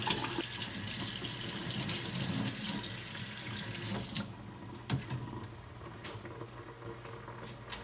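Tap water gushes into a kitchen sink while snow crab legs are rinsed for a seafood boil, first a full heavy stream, then a lighter trickle with small clicks and knocks of handling.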